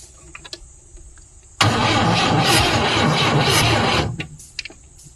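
A 1972 Volvo 145 engine with a locked-up alternator and no carburetion cranks over loudly and steadily for about two and a half seconds, then stops, followed by a few clanks.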